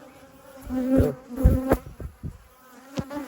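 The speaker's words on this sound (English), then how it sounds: "today we're going to check out the bees and do a split on one of these hives that is just covered up with bees" Honey bees swarm thickly on the outside of an overcrowded hive, making a dense, steady buzzing drone close by with wing whines rising and fading, and a voice briefly heard.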